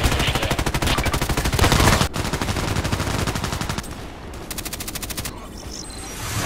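KelTec RFB carbine fire in the shooter game Contract Wars, with long, rapid, evenly spaced bursts of loud close shots broken by brief pauses and a shorter final volley.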